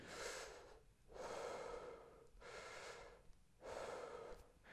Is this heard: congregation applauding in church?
no